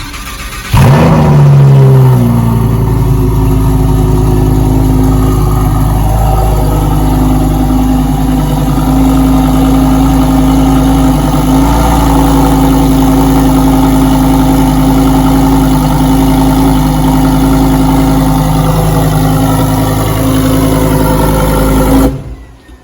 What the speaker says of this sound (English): So we're gonna do a little cold start.